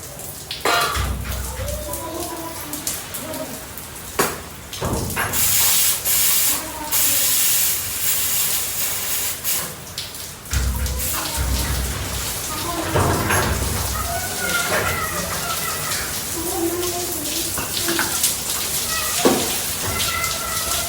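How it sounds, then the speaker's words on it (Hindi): Heavy monsoon rain pours steadily onto a rooftop, a dense, loud hiss of water that runs throughout, broken by a few louder bursts and thumps. "काफ़ी बारिश हो रही है"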